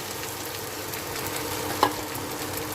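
Flattened rice (poha) with carrots being stirred in a pan over the heat, giving a steady soft scraping and light frying hiss with one brief sharper knock near the end.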